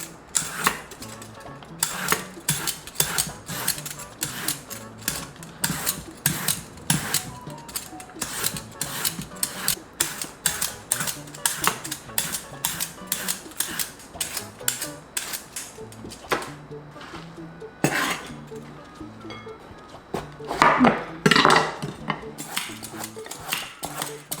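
Zucchini being shredded on a julienne slicer, a run of quick, close, rhythmic scraping strokes with short pauses between passes, plus a few brief clatters near the end.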